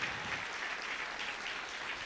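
An audience at a mayoral candidate forum applauds the candidates, a brief, even wash of many hands clapping together.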